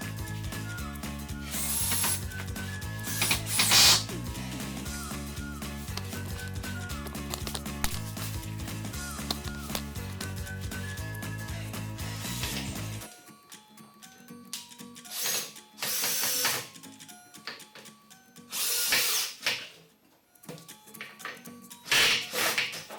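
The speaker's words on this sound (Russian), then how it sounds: "И двумя саморезами внизу прикрутим палубную доску к закладной на полу." A power screwdriver drives self-tapping screws through a deck board into a floor anchor while a stair balustrade is fitted indoors. It gives several loud bursts of whirring and ratcheting, at first over a steady hum and then separated by quiet gaps.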